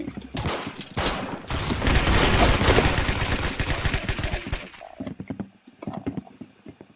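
Automatic gunfire in a first-person video game, dense rapid bursts of shots rolling for several seconds and then thinning to a few scattered cracks and clicks, loud and close.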